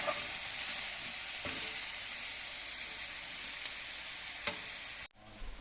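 Ragi semiya upma with salt and cumin powder stirred in a pan over a steady sizzle, with a few sharp spoon scrapes, before the sound cuts out near the end.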